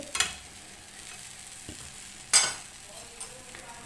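A cheese khoobs flatbread sizzles steadily in a hot pan, with a sharp clatter as it is flipped partway through and a few lighter knocks afterward.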